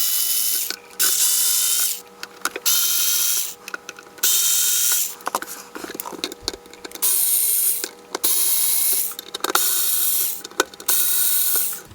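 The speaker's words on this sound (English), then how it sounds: "let's get my electric screwdriver." Electric screwdriver opening up a Galaxy DX98VHP 10-meter amateur radio, with bursts of whirring, ratcheting driver noise repeating in roughly one-second runs separated by short pauses, close and fairly loud with no talking.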